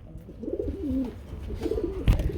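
A pair of large Lahori grizzle pigeons at a pigeon farm coo softly in two rolling, throaty phrases close by, with a brief rustle near the end and no talk.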